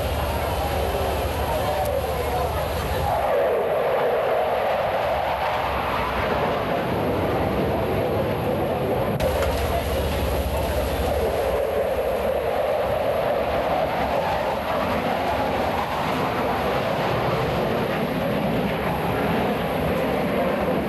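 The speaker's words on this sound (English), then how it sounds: "Now, let's watch as Commander Rude calls ready break" Aerobatic team jets breaking formation at an 1987 Moffett airshow, a loud sustained roar of engines sweeping past and swelling, with a faint announcer voice underneath.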